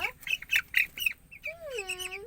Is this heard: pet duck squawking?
yes